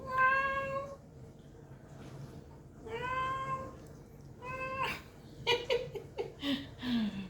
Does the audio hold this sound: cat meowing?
yes